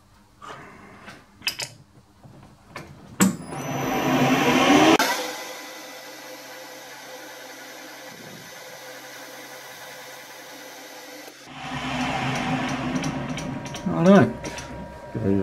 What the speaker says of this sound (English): I'll give it a bit of a rub with some emery.